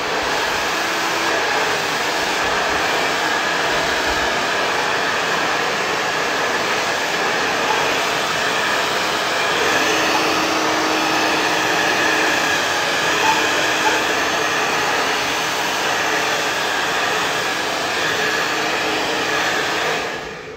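Hair dryer blowing continuously and loudly at close range while hair is brushed forward for a pompadour, a steady unbroken roar with no talk.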